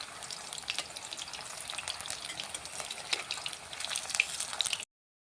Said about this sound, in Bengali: আমার তেলটা গরম হয়ে গিয়েছে, এবার এক এক করে ভেজে নেব